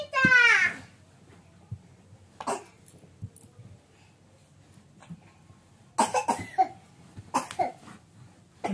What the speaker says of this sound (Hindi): खांसी कितनी हो रही है आज आपको बहुत खांसी होगी ना